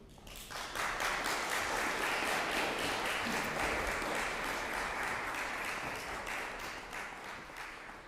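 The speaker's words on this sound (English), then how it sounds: "give a massive round of applause for these wonderful players" An audience applauding after a chamber music performance, a dense, sustained wash of clapping from a full room that swells quickly, holds steady and begins to taper at the end.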